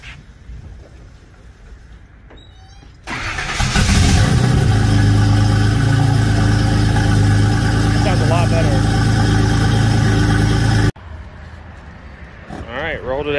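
A turbocharged Nissan 280Z, just fixed after a bad idle control valve, fires up and settles into a loud, steady idle with a rough mechanical burble, then cuts off abruptly, leaving quieter shop noise behind.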